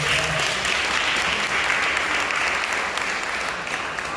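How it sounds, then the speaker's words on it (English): A room of attendees at a police precinct community council meeting in Brooklyn claps steadily, a dense even wash of applause held at moderate level throughout. "give a round of applause to yourself coming out of this"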